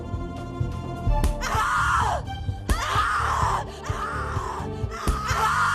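Repeated anguished screams and groans from a character in the horror video game The Cat Lady, several long wailing cries rising and falling over a low droning backdrop, loud and close.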